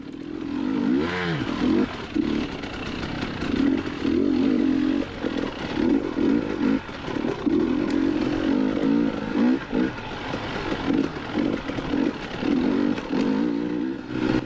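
A Beta XTrainer dirt bike engine drones steadily under throttle as the rider climbs over rocks on a New England trail, with rattles and clatter from the rough ground.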